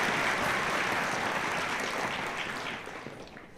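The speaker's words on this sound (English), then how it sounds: "Let's have a round of applause for them." Audience applause for students at a school winter concert, a steady dense wash of many hands clapping that fades slightly toward the end, with no talking over it.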